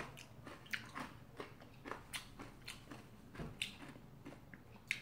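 Someone eating roasted sweet potato, skin included: repeated soft, moist bites and chewing with a few crisp crunches, close and steady, with no talking.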